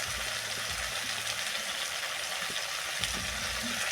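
Fried vegetables crackle in a pan as coriander, cumin, turmeric and chilli powder go in with two green chillies, a dense steady sizzle with faint scraping of stirring and no talking.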